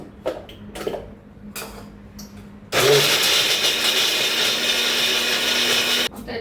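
A kitchen mixer grinder grinds coconut for chutney in a loud, continuous burst of about three seconds that stops abruptly. Faint knocks and handling sounds come before it.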